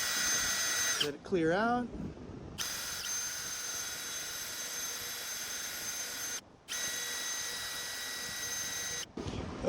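A drill bores through a seized piston in a Toyota 2ZZ engine, whining in long steady runs broken by short pauses, with a brief spoken remark near the start.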